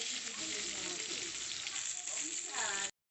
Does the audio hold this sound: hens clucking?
no